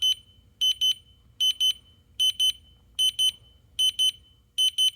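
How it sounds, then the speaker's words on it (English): An interconnected wireless smoke detector sounds a test alarm: repeated pairs of shrill, piercing beeps in a steady rhythm, loud and close, with no talking. "it tells all the other ones to beep as a test"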